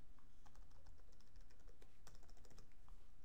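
Steady typing on a computer keyboard while entering account details, with dense, fast, close key clicks running continuously and a few louder keystrokes, no speech.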